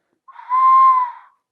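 A bird flute gives one short, clear whistled note in imitation of a bird call, rising in, holding steady for about half a second and fading out, alone against silence.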